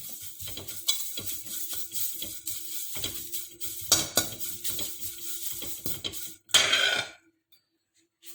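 Drumstick leaves frying in a pan over a flame for chutney powder, giving soft sizzling with repeated scraping and clinking of a utensil against the pan, ending in a louder burst of sizzle before falling silent.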